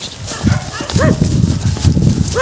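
A dog barks in a few sharp, close bursts outdoors during a rescue, mixed with rustling and movement noise.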